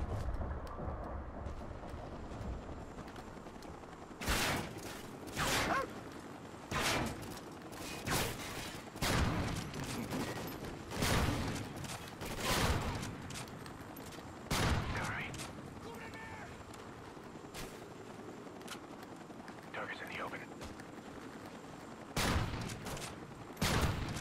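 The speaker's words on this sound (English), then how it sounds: "Give me some cover fire." Gunfire in Call of Duty: Ghosts: repeated loud rifle shots and short bursts crack out at irregular intervals over a low rumbling battlefield bed, with voices talking between volleys.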